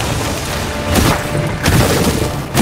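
Fireballs launched in Asgard's Wrath 2 virtual-reality combat: loud rumbling whooshes and booms, two or three bursts rolling into one another over a short, dense stretch.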